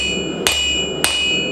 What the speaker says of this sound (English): I'm taking a square punch and just putting some indentations in.